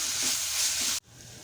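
Onions with salt sizzle and hiss in a pan while being stirred, a steady close frying sound that cuts off abruptly partway through, leaving a quieter low hiss.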